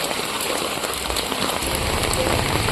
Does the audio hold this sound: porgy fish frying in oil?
no